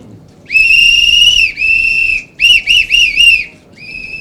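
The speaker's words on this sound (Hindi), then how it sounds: "आज के बोलने की शुरुआत तो सीटी बजा के ही होनी चाहिए।" Loud, shrill whistle blasts sound at the start of a political speech: one long sustained blow, then several quick short toots and a fainter final blast, close and alone.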